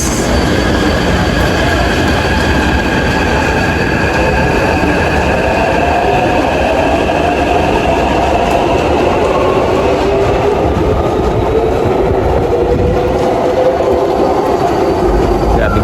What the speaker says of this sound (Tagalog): ang bibilis ng mga tren dito.